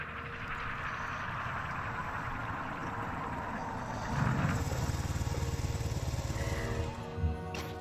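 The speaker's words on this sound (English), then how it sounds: "where did you get that motorbike?" A motorbike engine rumbles steadily throughout, swelling louder partway as it draws nearer, then settling and dropping off at the end.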